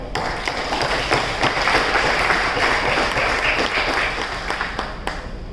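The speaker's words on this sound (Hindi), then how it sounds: "मैं आपके लिए एक बार तालियां बजाना चाहूँगा" An audience at a business training event in Gurugram gives a sustained round of applause, many hands clapping steadily and fairly loudly from start to finish, with a few sharper claps standing out.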